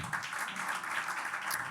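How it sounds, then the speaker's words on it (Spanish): Church congregation applauding during a Spanish-language worship service: a soft, steady wash of many hands clapping, heard at a distance and quite faint throughout. "Dele ese aplauso con vida al Señor."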